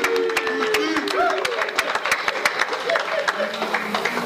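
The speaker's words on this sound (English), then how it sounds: "And round of applause for that." An audience at a Valentines For Vets event claps a round of applause, sharp close hand claps in an uneven patter over a crowd murmur, with a voice or two underneath.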